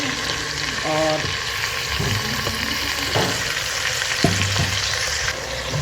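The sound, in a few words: frying chicken with onion mixture in pan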